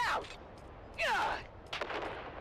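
Grenade blasts and gunfire in the Dune Awakening game come as a few sharp swooshing bursts and cracks, fairly faint and spread over a couple of seconds.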